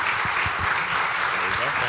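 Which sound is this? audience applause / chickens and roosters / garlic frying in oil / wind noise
audience applause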